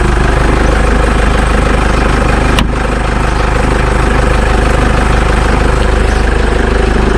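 A Jeep Wrangler 2.8 CRD diesel engine idles close by after a service, a loud, steady rumble with a fine rhythmic diesel tick and one brief click partway through.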